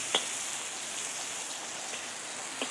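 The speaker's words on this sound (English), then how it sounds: "Between the sizzle of the wok and the sound of the rain on the roof, it's quite a noisy job." Steady rain patters on a roof, a soft continuous hiss with a few faint drips; a wok of beans frying in oil may add to the sizzle, all fairly quiet and without talk.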